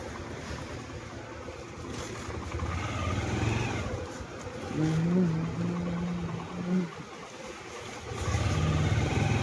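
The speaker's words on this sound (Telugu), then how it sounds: "బండి రివర్స్ జా" A motorbike engine idles and revs in a low, steady drone outdoors while being reversed, with wind noise throughout and a brief louder rise in the middle.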